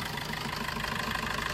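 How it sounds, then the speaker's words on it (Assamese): Diesel Maruti Swift Dzire used car idling, a steady close-up engine drone with an even low rumble and faint knocking texture, no voices. "এইটোৱে ডিজেলৰ গাড়ী সাউন্ড এইটোৱে পাব"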